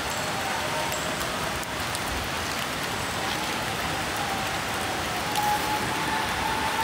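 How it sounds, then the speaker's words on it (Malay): Heavy rain pours down steadily, a dense, even hiss of drops drumming on surfaces close by, with no voices. "Hujan lebat ni."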